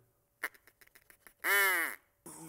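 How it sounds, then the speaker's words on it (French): A loud, nasal, harmonic honking call about half a second long, like a young swan, follows a few soft clicks and rustles, with a burst of broadband noise at the end. "Le cygne adolescent."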